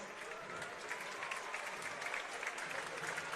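An arena crowd at a BBL Championship basketball game between Newcastle Eagles and Caledonia Gladiators applauds steadily, a dense, even wash of clapping that holds for a few seconds with a faint murmur of voices underneath.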